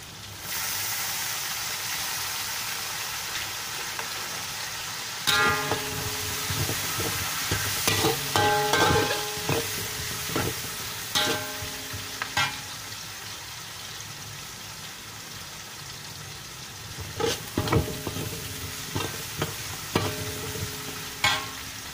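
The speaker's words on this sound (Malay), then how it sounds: "Okey, masuk daun kari." Curry leaves spit and sizzle in hot oil for a fish curry, a steady frying hiss broken by bursts of crackling and stirring scrapes, close and fairly loud with no talk.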